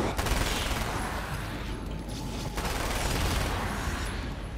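Rapid gunfire from a weapon in the video game American Nightmare rattles in a dense, continuous burst, loud and close, with faint game background underneath.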